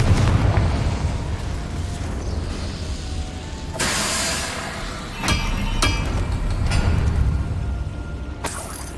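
Confringo blasting curse explosions erupt in Hogwarts Legacy, with a broad roaring burst near the middle and several sharp cracking impacts after it, all over a steady rumbling background of game ambience.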